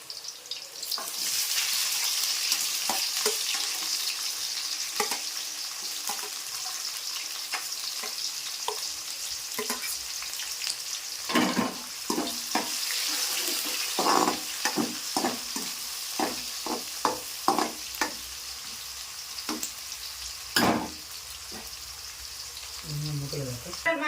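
Green chillies and onions frying in oil for a tuna fish curry, with a continuous close sizzle broken by repeated sharp scrapes and clatters of stirring, growing busier midway, while a voice talks intermittently over it.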